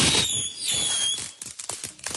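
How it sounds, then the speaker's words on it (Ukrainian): Whistling fireworks on a birthday cake shriek and hiss loudly up close, followed by a rapid run of crackling pops that sputter out. "виявляється, що прикрасили торт дуже нестандартно феєрверками. Торт вибухає зі свистом"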